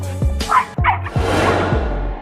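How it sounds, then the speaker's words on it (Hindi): A dog barks several times close by in quick, uneven yelps, with a low steady hum running underneath. "बेचारा कुत्ता भौंकने के अलावा कुछ भी नहीं कर सका।"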